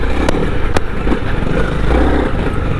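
A 2021 Honda CRF300L motorcycle engine drones steadily and close while it is being ridden, with a couple of sharp clicks early on.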